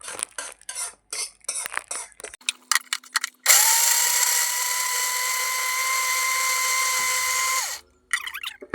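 Electric mixer grinder jar blending gravy, a loud steady high whine that runs for about four seconds, with clinks and handling knocks of the jar before and after.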